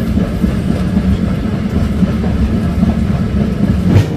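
Bhubaneswar Chennai Express train running on rails: a loud, steady low rumble of the moving carriages with a continuous rolling clatter of wheels over track, unbroken across the whole stretch with no voices.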